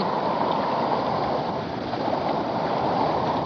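River current flowing over stones outdoors, a steady broadband rush that holds an even level throughout without pause.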